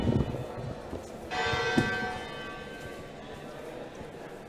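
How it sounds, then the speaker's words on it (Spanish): The bell of the University of Salamanca, known as la cabra, strikes once with a bright metallic tone that hangs and slowly decays, heard over a murmur of street ambience. "su campana, llamada la cabra, marcó las horas de las clases y del estudio"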